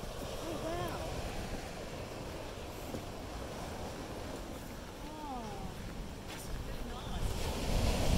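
Surf washes onto the small deep-water beach at Mussel Bay in south east Tasmania, a steady broadband wash with wind buffeting the microphone and birds calling faintly, swelling louder toward the end.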